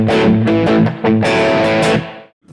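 A distorted electric guitar plays a blues/rock variation of the 12-bar blues pattern in A, with a few chord stabs and brief pauses between them, loud and up front with no talk.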